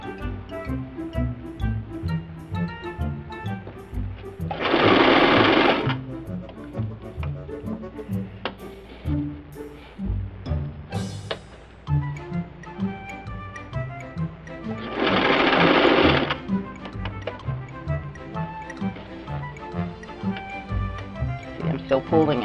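A sewing machine sews stretched elastic onto fabric in two short bursts a few seconds each, heard under a person talking and close to the mic.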